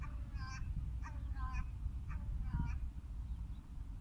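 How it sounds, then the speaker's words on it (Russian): A crow caws several times in a loose series, harsh nasal calls at moderate distance over a low rumbling background, on the shore at Balkhash, Kazakhstan. "Ворона издает звуки Аллах, Аллах, Аллах"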